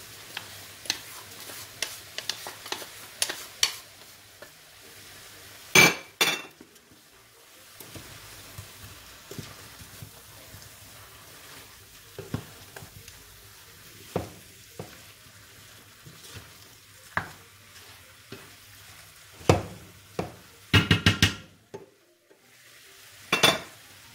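A spoon stirs a beef sausage tomato sauce with cherry tomatoes, salt, pepper and tomato juice in a pan, giving scattered scraping clicks and knocks over a soft, steady simmer.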